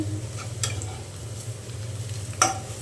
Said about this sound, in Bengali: মাছ ভেজে তুলে নিয়ে তারপরে করে আমি পেঁয়াজ দিয়ে দিয়েছি